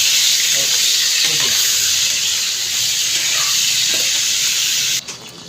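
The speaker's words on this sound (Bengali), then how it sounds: "এবার তেলের মধ্যে ছেড়ে দেবো পটলগুলো ভাজতে থাকবে" Pointed gourds (potol) fry in hot oil in a pan, giving a loud, even sizzle that holds steady throughout and cuts off abruptly near the end.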